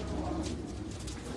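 Pigeons coo on a Karachi rooftop in a steady, close, low murmur that runs the whole time, with no one talking over it.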